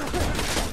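Rapid gunfire in the Borderlands 2 video game, a dense, continuous burst of shots that fills the whole moment at steady loudness with no talk over it.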